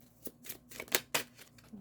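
Tarot cards shuffled in a pick-a-card reading, giving several quick, close riffling bursts spaced about a quarter second apart, crisp and fairly soft, with no talk.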